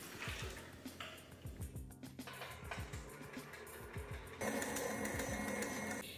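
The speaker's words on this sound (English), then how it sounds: "And let's whisk the cream, just like regular you do whipped cream." Cold cream for salted caramel ice cream is whisked with a close, busy mechanical whirr and rapid rhythmic ticking, which turns louder and denser near the end.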